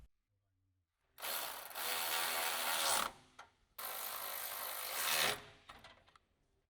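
A ratchet tool tightens the upper bolt while a lift spacer kit is fitted to a Jeep Wrangler JK, in two loud close bursts of rapid clicking separated by a short pause.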